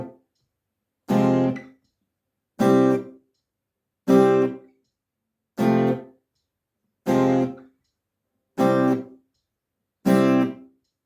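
Muted guitar chord stabs at 80 BPM, eight short evenly spaced strums cut off by fretting-hand muting, each with a sharp attack and quick choked decay, separated by silence.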